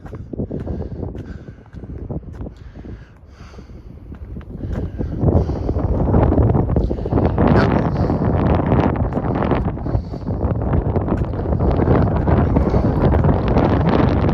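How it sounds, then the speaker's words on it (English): Gusty wind buffets the microphone on a night walk, making a loud, rumbling roar that rises and falls in surges and grows stronger and more sustained in the second half. "All I know is it's gusty up here."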